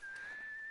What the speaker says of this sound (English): Who is whistling?